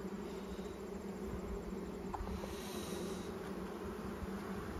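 Honey bees buzzing inside an opened beehive full of larvae and drones, a faint, continuous low hum with steady tonal drone and no voices.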